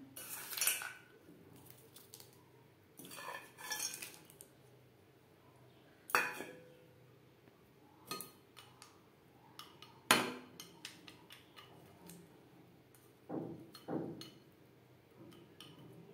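A spoon stirring dry-roasted peanuts into vegetarian jackfruit curry gravy in a metal pan, with sporadic sharp clinks and scrapes of utensil on pot, separated by quiet pauses.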